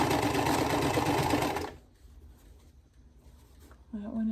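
A sewing machine stitches rows of quilt blocks together in a fast, loud, steady whir for about two seconds, then stops, leaving quiet room tone and a faint voice near the end.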